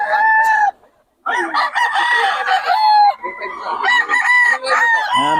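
A rooster at a Bocaue poultry market crows loudly and close, in repeated harsh calls with a brief pause between bursts, alongside clucking.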